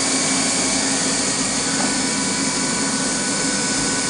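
Fadal CNC mill spindle running through a speed multiplier at 15,000 RPM, a loud steady high-pitched whine and whir with constant tone and no pauses.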